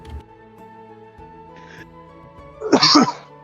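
One sharp, loud cough bursts out over a soft background of sustained music.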